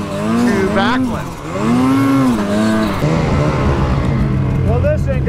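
Polaris 600 RS race snowmobile engine revving hard and straining uphill in snow, its loud, rising and falling whine repeating close by, with voices talking over it.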